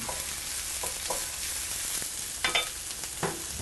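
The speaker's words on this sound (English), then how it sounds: "I don't know whether you can hear that crackling, popping noise almost." Pork and peppers sizzle in a hot cast iron pan, a steady soft hiss punctuated by a few sharp crackles and pops near the end.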